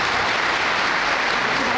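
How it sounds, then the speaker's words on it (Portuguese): A crowd applauds continuously, a dense steady clatter of many hands clapping at full strength for the whole moment. "Vamos aplaudir"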